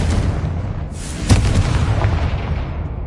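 Spell explosions from a Hogwarts Legacy battle, one loud booming blast near the middle followed by a few smaller bursts over a dense rumbling bed of combat noise.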